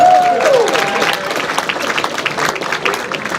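Dinner-banquet applause for the bartenders at an air force association event, moderately loud clapping from a seated crowd continuing throughout, with a voice briefly heard at the start.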